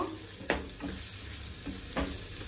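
Jackfruit cutlet spice mixture stirred in a pan over low gas, a soft sizzle underneath with a few distinct scraping strokes of the spoon against the pan, close and quiet, no talk.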